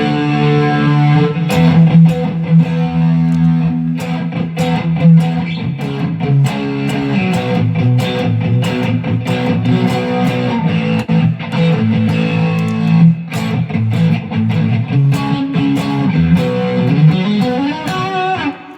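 Electric guitar played through a Line 6 HX Stomp, with overdriven, effects-laden tones and a steady rhythmic strumming and picking pattern. The guitar stays loud and continuous throughout, with sharp attacks on the strummed chords.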